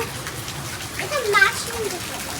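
Rain pours onto a tulsi plant's pot, filling it with water, a steady wash of patter heard close by. Voices, including a child's, talk over it.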